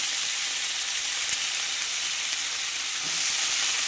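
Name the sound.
panch phoron spices tempering in hot oil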